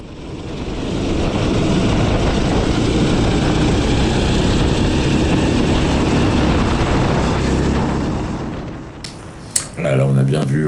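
Go-karts at a 2024 Jovikart Cup race roar past on track in a loud, sustained engine drone that fades after eight seconds, followed by a brief clunk and a rising nearby engine.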